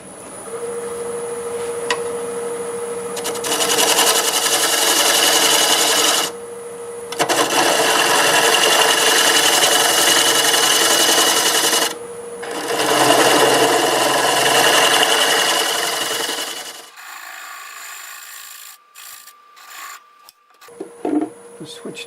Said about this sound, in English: I'm going to use a 1/2 inch bowl gouge, about 700 RPM to start.